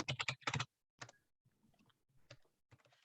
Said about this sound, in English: There's nothing more fun than trying to spell and type when a whole group of people are watching you, right?